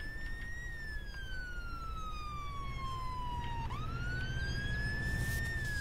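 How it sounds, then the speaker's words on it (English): A video game ambulance siren in ArmA 2 wails, sweeping slowly down in pitch, then abruptly jumps and rises again, steady and moderately loud over a low rumbling background. "Oh, it's ambulance."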